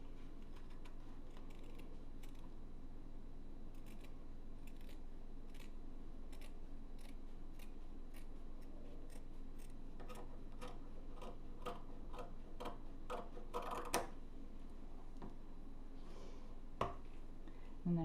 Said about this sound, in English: So I'm just cutting.